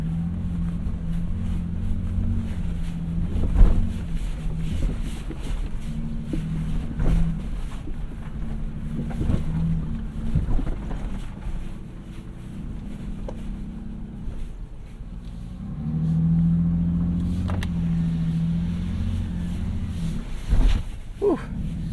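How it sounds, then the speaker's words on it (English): 2023 Toyota Sequoia TRD Pro SUV crawling over a rocky off-road section, a steady low engine drone with tires crunching and thudding over stones, interior perspective, some jolts and a brief rise in revs. "testing out all that off-road performance there over that rocky section"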